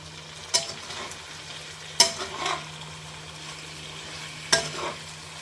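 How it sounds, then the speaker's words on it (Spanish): Chicken fries in a pan of orange sauce with a soft continuous sizzle. Three sharp utensil scrapes or clinks break through it at spaced intervals. "Agregué el pollo y fríelo en la salsa"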